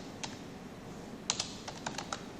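Computer keyboard keys being typed while entering a compile command, a handful of quick close clicks with brief gaps over faint room hiss.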